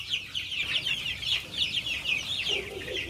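Chickens cluck and chatter steadily throughout, a busy flock of about a thousand young birds close by with overlapping calls and no talking.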